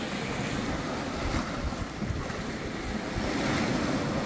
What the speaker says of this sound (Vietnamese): Hôm nay sóng vẫn còn to nha.